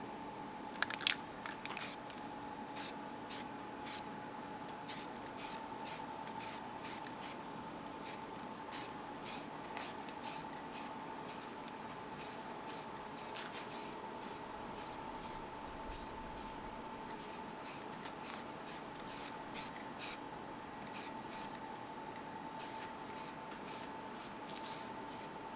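A car's wiper cowl gets a light first coat of spray paint: many short, sharp hissing bursts in an even rhythm, close and clear over a steady electrical hum, with no talking.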